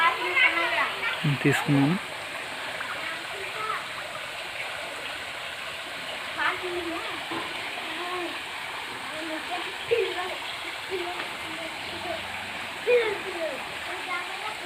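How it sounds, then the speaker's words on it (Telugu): A stream gurgles and splashes steadily in the background while people talk over it. "నీటి సౌండ్ గలగలగల అంటుంటుంది."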